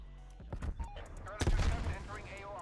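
Rapid gunfire in the video game Call of Duty Cold War, bursts of shots with a louder volley midway, mixed under game effects and faint talk.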